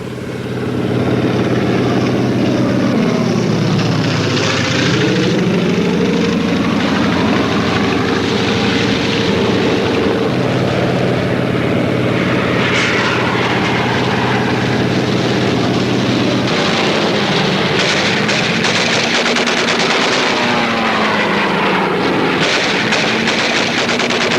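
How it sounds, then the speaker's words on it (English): An American Airacobra P-39 fighter plane drones loudly in flight, its engine roar rising and falling as it passes, with bursts of gunfire crackling over the steady noise, no voices. "Among the planes Pokrishkin flew was an American Airacobra P-39."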